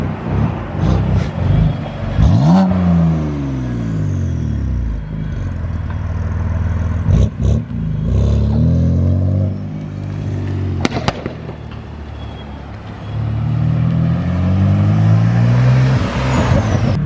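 A BMW F80 M3 engine rumbles up close while parking, rising and falling as it revs, with a few sharp pops and clanks along the way.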